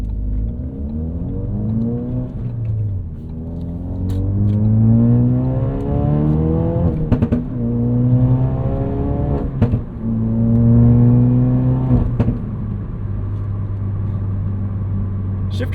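A 2016 Ford Focus RS hot hatch with a 2.3-liter engine and manual gearbox revs up while driving, its engine note climbing and dropping repeatedly through several shifts, steady and close, with no talk over it.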